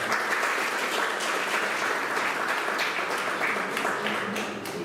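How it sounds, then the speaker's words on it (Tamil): A large audience applauds as a speaker comes onto the stage, a dense, loud, even roar of clapping that holds steady throughout and eases slightly at the end. "உங்கள் கைத்தட்டலோடு தேவி பிரபாகரன் வருகிறார்"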